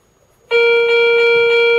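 Garrett Ace 250 metal detector sounding a high, bell-like tone over a 10-kopeck coin: a steady electronic beep that starts abruptly after a short silence and holds loud and clean to the end.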